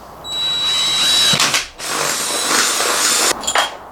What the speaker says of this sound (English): We're gonna do a pilot hole and then put our big hole so that our bolt can go down through.